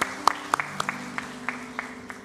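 A church congregation claps together during a thanksgiving service, a steady patter of claps carried under a sustained tonal hum, with a few sharper claps standing out.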